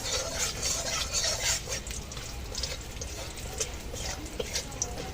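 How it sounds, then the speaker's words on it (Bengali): Pumpkin bori lentil dumplings frying in hot oil in a home kitchen, a steady dense sizzle and bubbling that stays loud and continuous throughout, with faint stirring clatter. "এখন এই বড়িগুলো ভেজে নেব। কুমড়ো বড়ি।"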